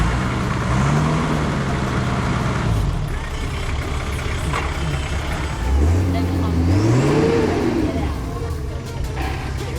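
A Toyota 60 Series 4x4 without lockers labours up a difficult offroad line, its engine droning loudly and rising in revs at close range, with someone talking over it.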